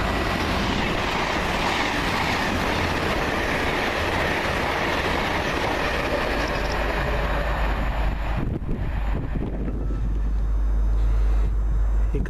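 Two Class 221 diesel trains, 221-102 and 221-115, run from Birmingham toward London with a loud continuous rumble and rattle of wheels, growing heavier and lower as they pass close by.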